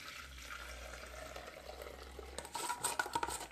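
A whisk or spoon stirs crème pâtissière in a saucepan, a soft, quiet liquid swishing that turns into a few louder scraping strokes near the end.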